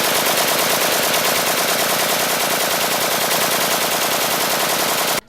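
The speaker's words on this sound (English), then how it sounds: "And then there's machine gun sounds on fully auto." A machine gun fires on fully automatic in a played recording, a dense, unbroken stream of rapid shots at steady loudness for about five seconds before stopping suddenly.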